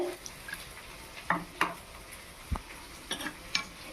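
Onions frying in a pan with Kashmiri chili, cumin powder, garam masala and a splash of water, with a quiet steady sizzle broken by several sharp stirring scrapes and clinks of a utensil against the pan.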